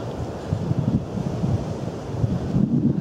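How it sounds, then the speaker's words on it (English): Strong mountaintop wind gusting at 40 to 60 miles an hour against a tent at night, a rough, rumbling roar that buffets the microphone in uneven surges; no talk. "The winds are blowing like crazy up here."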